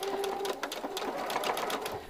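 A sewing machine stitches a Y seam at a normal 2.2 stitch length, a quiet rapid whirring with rhythmic needle clicks in one short close burst.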